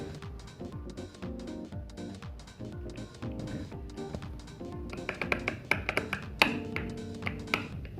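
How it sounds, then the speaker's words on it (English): A screwdriver driving a screw into a wooden studio easel, with a run of close, sharp taps and clicks from the metal tool against the wood, busier and louder toward the end. "now we have to screw it down with the help of screwdriver"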